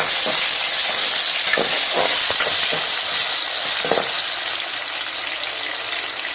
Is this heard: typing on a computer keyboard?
no